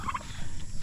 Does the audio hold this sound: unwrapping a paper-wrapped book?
no